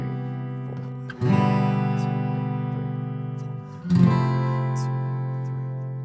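Acoustic guitar strumming the bridge chords of a song: two sustained strummed chords, each struck once and left ringing as it slowly fades, played close and clean with no voice.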